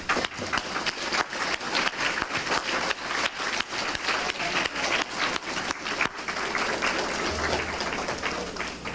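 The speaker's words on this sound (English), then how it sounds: "would all the project advisors and principals here stand and let us applaud you" Audience applause at a Rotary middle school service fair honoring project advisors and principals, many hands clapping with a rhythmic, pulsing texture that gradually loosens into a steadier wash before fading.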